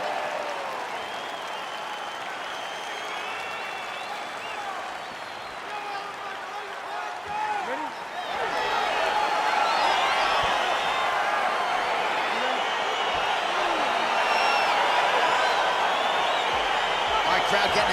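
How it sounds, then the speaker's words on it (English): A UFC Fight Night arena crowd roars and cheers as a bout gets underway, a dense wash of noise that swells louder midway, with an announcer talking over it. "Crowd getting excited as this fight gets underway"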